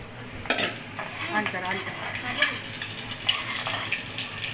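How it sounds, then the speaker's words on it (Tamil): Ingredients for a fish curry are sautéed in a pan, with a spoon scraping and stirring in a close, steady rhythm over a soft sizzle. "இதெல்லாம் வதங்கட்டும்."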